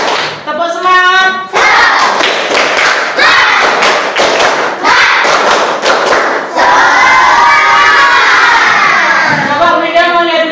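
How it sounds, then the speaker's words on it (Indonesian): A sixth-grade elementary class performs the tepuk semangat clapping chant, with loud, rhythmic bursts of clapping and thumping mixed with children's shouted chanting and cheering, close and energetic throughout. "Ayo coba perhatikan tepuk 1, tepuk 2, tepuk semangat."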